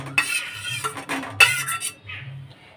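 Pointed gourds tumble into a bowl of spice paste with mustard oil and sugar, a few quick clattering knocks and wet slides against the bowl, close and fairly loud.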